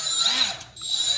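A Milwaukee die grinder spins up and runs with a close, high whine, dipping briefly in the middle before steadying again.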